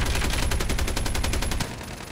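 Rapid automatic gunfire in Call of Duty Mobile, a fast even stream of loud close shots that stops abruptly, leaving quieter game ambience.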